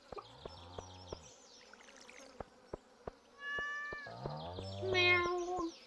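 A cat in Stardew Valley meows twice, fairly close and clear, with the second call longer and more drawn out, while sharp ticking clicks repeat at a steady pace underneath.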